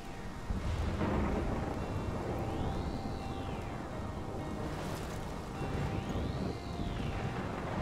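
Thunderstorm in the Life is Strange video game, with steady heavy rain and rolling thunder rumbling throughout, and a sweeping whooshing tone rising and falling twice over the storm.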